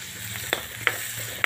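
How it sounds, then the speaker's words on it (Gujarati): Onion, ginger, garlic and green chillies fry in a pan with a steady low sizzle, while a spoon scrapes and knocks against the pan three times at roughly even intervals, close and fairly quiet. "ચમચાથી સરસ મિક્સ કરી લઈશું"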